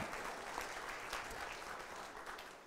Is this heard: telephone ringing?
no